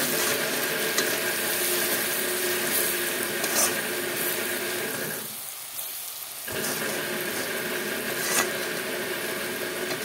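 Onion fries in a pan with salt and turmeric, a dense close sizzle running throughout while a spoon stirs and scrapes, the hiss briefly thinning midway before returning, with no speech.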